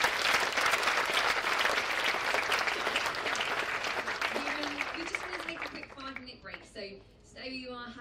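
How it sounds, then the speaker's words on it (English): Loud audience applause fills most of the clip, a dense steady clatter of clapping that thins out toward the end as voices begin talking over it at an evening gathering. "let's give a round of applause for John."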